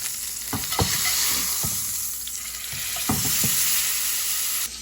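New York strip steak searing in a pan, a continuous hissing sizzle with a few sharp knocks and scrapes as the meat is moved, fairly quiet and close.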